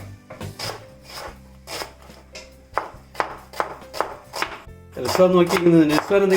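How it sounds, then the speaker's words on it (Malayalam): Rapid knife chops on a cutting board as onions are cut, about a dozen sharp close taps in an uneven rhythm, followed by a burst of quicker chopping and scraping. "ഞാൻ ഇതുപോലെ അരിഞ്ഞെടുക്കുകയാണ് ചെയ്യുന്നത്"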